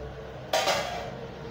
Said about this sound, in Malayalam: ഇനി നമുക്ക് മൂടി തുറന്നൊന്ന് ഒന്ന് ഇളക്കി കൊടുക്കാം